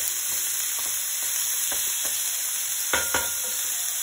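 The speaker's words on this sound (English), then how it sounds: "We're gonna put a sear on this meat," Ground meat for chili sears in a hot pan with no oil, a dense, continuous close sizzle broken by a few sharp spatula scrapes and clacks, with no voices.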